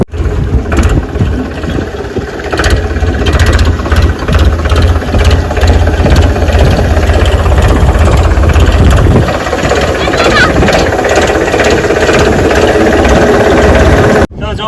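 A tractor engine idles nearby with a rough, rattling mechanical chug, while people talk over it in the background.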